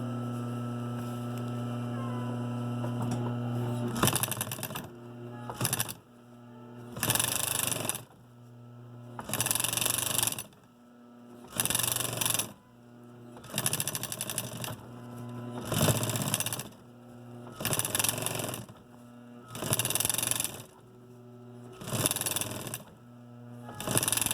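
A sewing machine stitching fabric in bursts of rapid mechanical whirring, about nine runs separated by short pauses, under a steady electrical hum.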